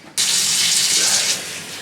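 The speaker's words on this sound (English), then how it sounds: "Got some socks and, yeah, my pants, and just kind of sit here in the sink and wash them." Tap water gushes steadily into a sink where socks and pants are being washed by hand, a loud, close, continuous rush that starts abruptly and eases slightly toward the end.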